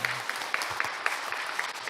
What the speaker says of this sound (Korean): 우리 한번 축복의 박수 해주시기 바랍니다